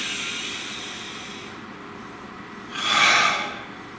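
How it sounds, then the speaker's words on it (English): A single deep breath, one long airy rush of air swelling up and fading out, close and fairly loud against a quiet room. "Nice deep breath."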